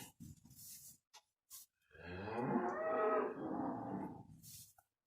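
A cow being halter broken gives one long, loud, close moo in the middle, framed by brief handling knocks and otherwise quiet surroundings.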